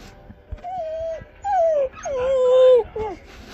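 A small dog whimpers and yips in high, drawn-out, pitched whines, three or four rising and falling cries close by, with a person speaking softly between them.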